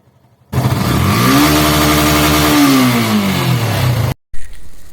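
Yamaha FZ/Fazer V2 FI motorcycle with over 50,000 km, engine run with the silencer on for a vibration check: a loud, close, steady engine roar with a rise and fall in revs, cutting off abruptly near the end.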